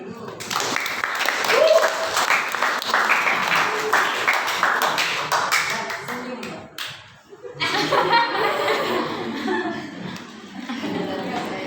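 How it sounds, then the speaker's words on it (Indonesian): Audience in a classroom presentation claps for several seconds, with scattered laughter mixed in before the clapping fades and a speaker's voice resumes. "Oke, kasih tepuk tangan dulu."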